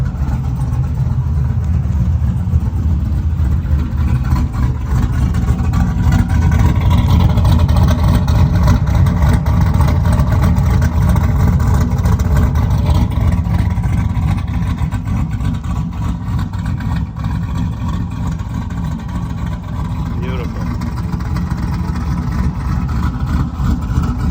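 Turbocharged 6-litre engine running outdoors with its exhaust cutouts open, a loud, steady low rumble with rough pulsing and slight rises in revs throughout, heard close up with no talk.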